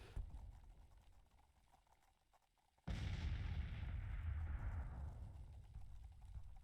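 Artillery and gunfire boom across a Civil War battlefield in a strategy game: scattered distant thumps and rumble, then a sudden heavy blast that swells into a sustained, loud rolling roar of cannon fire.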